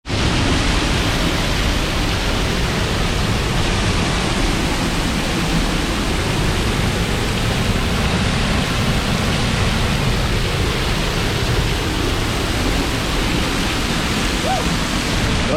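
Ingleton waterfall rushing, heard up close as a loud, dense, unbroken roar of falling water that holds steady without pause for the whole stretch.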